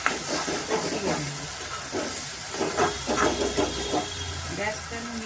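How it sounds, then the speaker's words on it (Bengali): Spice masala sizzles with a constant loud hiss as it is sautéed over medium heat for a potato and prawn curry with cashew, while a voice talks over it. "দিয়ে ভালো করে আমি মশলাটাকে কষাবো"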